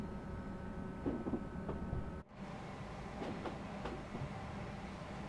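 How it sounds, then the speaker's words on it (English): A Class 380 train runs in Train Sim World, a steady low rumble with faint rhythmic clicks and a brief dropout partway through, fairly quiet and continuous with no talking. "I think this Class 380 was a lovely release for Train Sim World last year"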